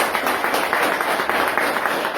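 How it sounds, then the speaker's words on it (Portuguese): Church congregation at a couples' gathering applauding, a continuous wash of many hands clapping without pause. "Vamos aplaudir o Senhor?"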